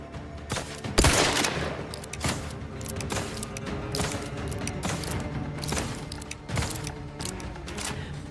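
Gunfire in the video game The Outer Worlds 2: dense, rapid bursts of shots crowd together into a loud, continuous fusillade, with one especially heavy blast near the start.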